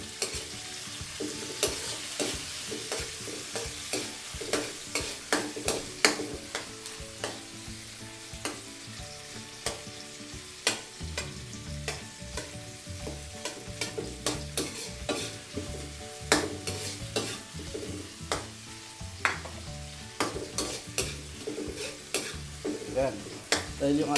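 Tomato and onion sautéing in hot oil for a squid adobo, a steady close sizzle broken by frequent sharp scrapes and taps of a spatula against the pan, continuing throughout with no voices.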